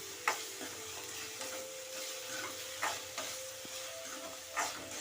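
Onions and tomatoes with salt sautéing in a pan for a prawn curry, a steady soft sizzle broken by a few sharp spatula scrapes and stirs, close and alone with no talk.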